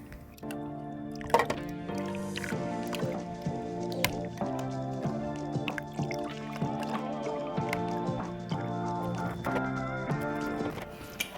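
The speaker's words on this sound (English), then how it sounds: "I'm using my strainer to strain any pulp that can be found in my lemonade" Lemonade is poured through a strainer, producing close liquid splashing and dripping with soft irregular taps that run steadily for several seconds under steady background music.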